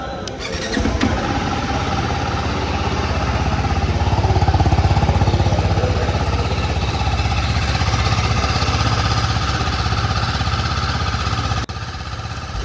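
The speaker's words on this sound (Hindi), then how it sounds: "तो चलिए बाइक की आवाज़ सुनते हैं नई RR 310।" A TVS Apache RR 310 motorcycle engine in Bomber Grey idles steadily up close, giving a loud, continuous buzzing drone with a slight swell midway and a brief dip near the end.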